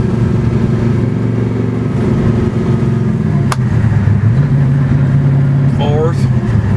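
A twin-turbo 1967 Chevelle SS rumbles along a street, its loud, close engine droning steadily with a gear change partway through while someone talks over it.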